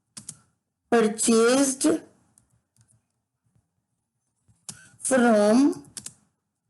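Sparse, soft computer keyboard clicks while a narration is entered in Tally ERP 9 accounting software. Faint keystrokes fall in the pauses between two stretches of someone speaking close by.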